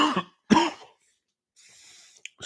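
Two people cough and clear their throats in quick succession, a couple of sharp bursts close by, then a quieter rustle and a brief click, during a comedy set.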